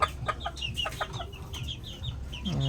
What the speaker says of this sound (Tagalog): Ito ang ating mga hen. White Kelso.